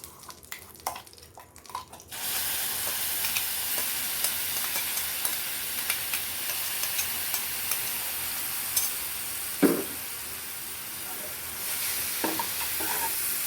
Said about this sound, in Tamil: கொஞ்சம் லைட் ப்ரௌன் ஆகிற வரைக்கும் வதக்கிக்கலாம்